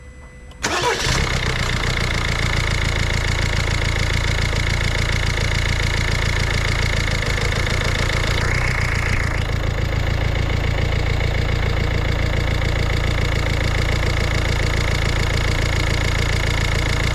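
A Citroen C5 Aircross 1.5 BlueHDi DV5 130 diesel engine, just fitted with a new camshaft chain kit, cranks and catches within the first second, then settles into a steady, loud, close idle that runs on alone.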